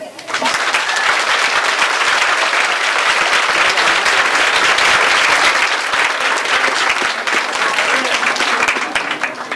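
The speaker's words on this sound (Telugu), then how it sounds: "with claps" Loud, dense applause from a crowd at a college New Year celebration, steady clapping filling the whole stretch without a break.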